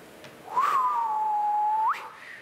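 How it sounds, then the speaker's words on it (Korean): A single sustained whistle made by exhaling through pursed, rounded lips as a breathing technique, steady in pitch with a brief rise at the start and end, lasting over a second against quiet background. "숨을 들이마시고 내쉴 때 내뱉을 때 휘파람 부르듯이"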